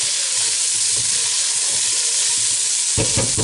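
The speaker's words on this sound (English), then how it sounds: "Give that a stir." Ginger and garlic fry in a pan for chilli con carne and are stirred. A loud, continuous close-up sizzle is broken by scraping stirring strokes, with a louder stir near the end and no talking.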